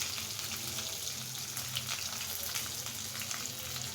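Dried red chillies and garlic fry in oil in a pan for a bharta, a steady soft sizzle and crackle throughout with faint stirring, no voices.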